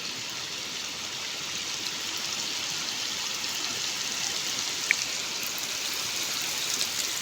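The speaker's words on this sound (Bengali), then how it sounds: "অত্যন্ত খুব জোরে বৃষ্টি।" Heavy rain pours down at the edge of a wetland, a dense, even hiss that holds steady throughout with no voices, apart from a single faint tap.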